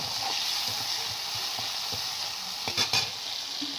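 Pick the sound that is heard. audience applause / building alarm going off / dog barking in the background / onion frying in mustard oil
onion frying in mustard oil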